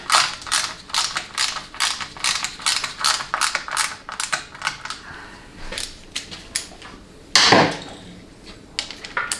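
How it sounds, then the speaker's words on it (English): A socket and ratchet turn a bolt on a 4L80E transmission, a close string of sharp, rapid clicking strokes in quick bursts, followed by a louder scraping clatter near the end. "I'll just use a socket and a ratchet."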